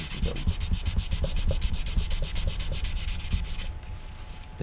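Fine 600-grit wet and dry paper sanding a superkart part between races, a steady rhythmic rubbing with quick repeated strokes, close and fairly loud throughout.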